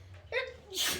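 A single quick sneeze in a third-grade classroom, a sharp breathy intake followed by a hissing burst, close and fairly soft.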